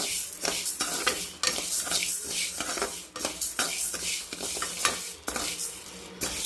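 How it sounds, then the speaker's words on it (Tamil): Horse gram roasting in a pan with garlic, dried chillies and tamarind rattles and scrapes as it is stirred vigorously, with dry crackling and metal utensil clinks in an uneven, busy rhythm close by. "இப்போ இது எல்லாத்தையுமே ஃபுல்லாக போட்டு நம்ம வறுத்து எடுத்துக்கலாம் கொள்ளு நல்லா வறுத்துக்கிடலாம்"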